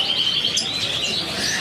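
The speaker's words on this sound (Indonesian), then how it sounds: "Kali ini resiskin jantan tulen." Male red siskin singing, a rapid run of thin high chirps and twittering trills, close and clear over a faint background hiss.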